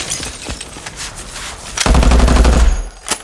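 Gunfire from a war movie trailer: a few scattered shots, then a loud, close burst of rapid automatic fire, ending on a single sharp crack.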